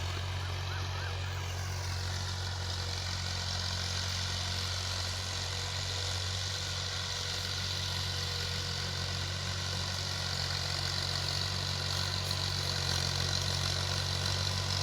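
An Al-Ghazi tractor engine runs steadily while plowing a field at dusk, a loud, continuous low drone with a constant throb and no talk over it.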